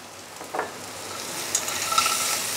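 A spoon stirs dry masala, salt and green peas in a frying pan for an egg curry, giving soft, intermittent scraping and gentle sizzling that swells in short bursts, with no voices.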